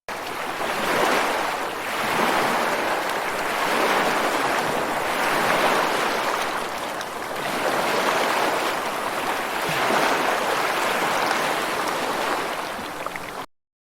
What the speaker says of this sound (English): S for sea.